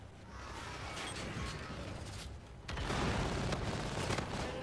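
Bombardment in the shooter game Infinite Warfare, a dense, steady roar of explosions and gunfire that swells louder about halfway through, with no speech.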